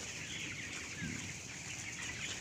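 Fifteen-day-old chickens, some with a cold and snuffly breathing, cluck faintly as a flock inside a coop, a low continuous murmur of calls with no talking.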